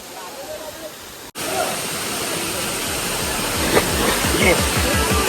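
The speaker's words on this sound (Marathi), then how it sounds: "एवढं पाणी पडते वरून" Loud, constant rush of the Kalmandavi Waterfall at Jawhar in May, a broad roaring hiss that begins abruptly and continues, with low voice-like sounds underneath.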